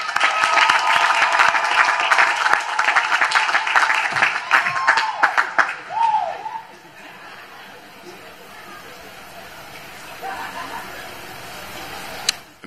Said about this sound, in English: let's give our mothers and grandmas a round of applause